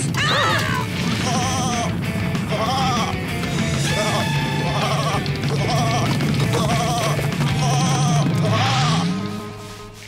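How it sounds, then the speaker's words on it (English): A goat bleats repeatedly on a mountain in a cartoon scene, loud and near, with a string of wavering cries over a dense, busy background of music and effects, ending with a rising call. "Abandoned goat!"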